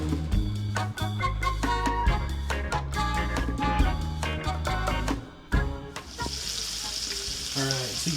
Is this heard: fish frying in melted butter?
yes